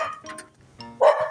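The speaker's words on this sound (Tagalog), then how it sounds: "natakot tayo sa aso" A dog barks a few times nearby, short sharp yaps with a louder bark near the end, no talking over it.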